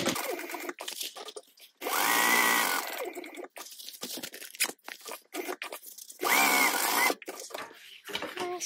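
A sewing machine stitches in two loud bursts while backstitching over the zipper teeth of a tote bag, with quieter fabric handling and clicks between runs.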